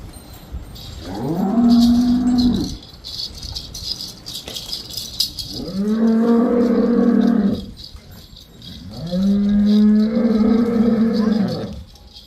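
Three long, low moos from a buffalo and her calf, each lasting a couple of seconds and separated by short pauses, loud and close, with faint jangling in the background.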